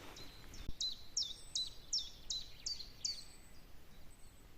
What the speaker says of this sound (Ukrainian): Привіт, птаха.